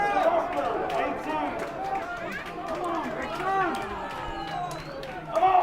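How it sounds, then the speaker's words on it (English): Crowd at a Brixham versus St Austell match urging on the Brixham players: a steady blend of many voices shouting and chattering, moderately loud and continuous, swelling again near the end. "You can hear the crowd urging on the Brixham players."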